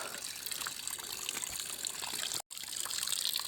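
Water trickles and gushes steadily in a farm field, a continuous bright splashing flow at moderate level with one brief dropout.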